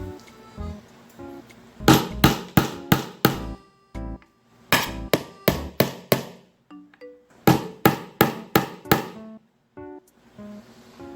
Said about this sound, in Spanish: Ahora utilizaremos la cabeza del martillo.